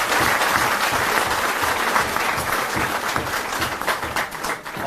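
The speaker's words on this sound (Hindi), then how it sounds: "जोरदार तालियों से" A crowd of party members and councillors at an Aam Aadmi Party event applauds loudly, a dense and sustained wash of clapping that holds for the whole stretch.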